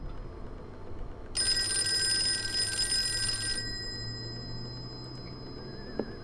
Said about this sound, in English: Let's answer the phone with clear head.